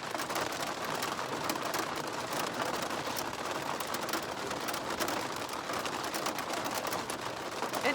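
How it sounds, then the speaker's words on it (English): Hail pelts the roof of a small Scamp camper, a dense, continuous patter of hard little impacts with sharper clicks scattered through, steady and close for the whole stretch, with no talking. "Oh, it's hail. It's hail."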